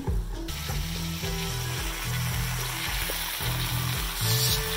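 Mushrooms fry in a pan, a loud continuous sizzle over a steady mechanical rattle and clicks, with no talk.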